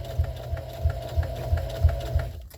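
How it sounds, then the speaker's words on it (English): A sewing machine back stitches fabric for a jar gripper, running up close with a rapid, even mechanical chatter and a low motor hum, then stopping abruptly at the end. "I back stitch a little bit because I want this to be strong"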